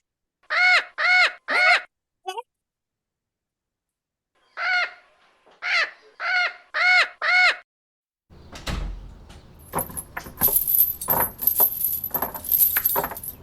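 Crow cawing in an audio drama: a loud, near bird calling in a quick run of three caws, a pause, then another burst of five caws, followed by clattering and rustling noises.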